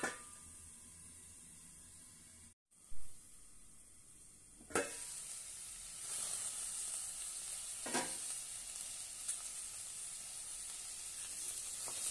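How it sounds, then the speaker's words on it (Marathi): Peas and cabbage curry cooks under a lid in a pan, giving a steady, close sizzling hiss throughout, with a few soft knocks and clatters of the pot. "आता आपण यावर झाकण ठेवून 5 मिनिटं शिजवून घेऊया"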